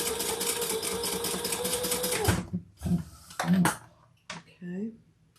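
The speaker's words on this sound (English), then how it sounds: "we're going to fold that back and stitch on that tab, only on the tab." A sewing machine stitches down a tab on a fabric shoulder bag, whirring steadily and loudly for about two seconds before stopping, after which a person talks briefly.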